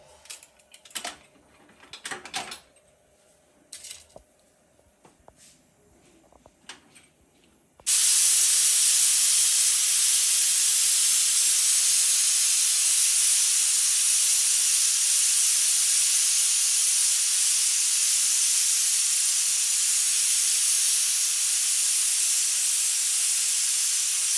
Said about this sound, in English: cover your pressure cooker and just wait 4 or 5 minutes